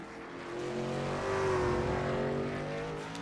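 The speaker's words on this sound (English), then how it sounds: "You can hear the engine puffing and revving up there" Short track Superleague race trucks revving, a steady engine roar rising and easing with a clear pitch sweep, moderately distant and alone without talk.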